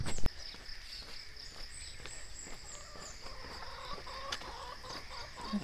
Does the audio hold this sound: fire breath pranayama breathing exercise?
no